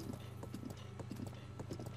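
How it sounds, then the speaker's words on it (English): A horse's hooves clip-clopping in The Legend of Zelda: Breath of the Wild, a quick, steady galloping rhythm of close, crisp hoofbeats running without pause and free of speech. "Alright, blue horse, let's go. Let's go, blue horse."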